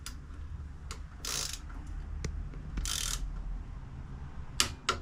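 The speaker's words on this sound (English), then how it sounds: "we're going to torque this to 15 foot-pounds" A torque wrench tightens the front axle bolts of a 2013 Yamaha FJR1300 motorcycle, giving sharp isolated clicks and short ratcheting bursts spread over a few seconds in a quiet workshop.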